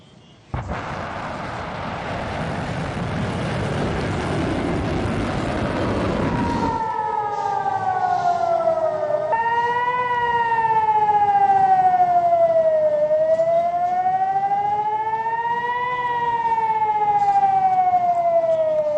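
A loud burst of rushing noise gives way to an air raid warning siren in Jerusalem during an Iranian missile attack, wailing as it rises and falls slowly in long sweeping cycles.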